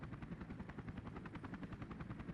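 Helicopter in the video game 007 Agent Under Fire, a steady rapid rotor chop throbbing continuously at an even pace, fairly loud and alone.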